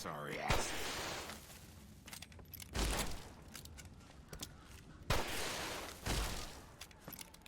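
A flare gun is fired at Big Sal in Fallout: New Vegas, giving three or four sharp bursts, each trailing off into a hissing rush, with someone talking faintly between them.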